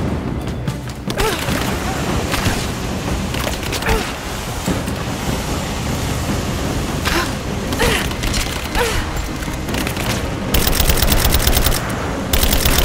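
Sustained gunfire in the video game Rise of the Tomb Raider, rapid automatic bursts and single shots crackling loudly and almost without pause, with mechanical clanks and booms mixed in and occasional shouted voices.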